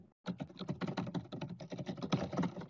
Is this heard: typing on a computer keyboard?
yes